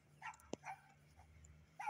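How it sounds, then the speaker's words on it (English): A dog gives a few faint, distant barks and yips in a brief scattered series over steady low background hum, with one sharp knock between them. "oh, here come a dog."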